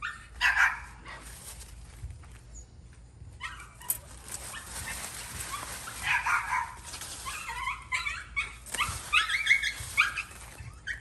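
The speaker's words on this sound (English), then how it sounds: "that's my dogs, and they're barking at the chickens." Several dogs bark and yip in bursts at chickens, some close and some a little farther off, with whimpering between the barks against an outdoor background.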